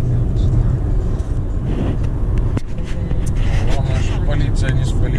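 A car driving on a road on a morning commute, heard from inside the cabin: a steady low rumble of engine and tyres runs throughout, with one brief sharp knock partway through.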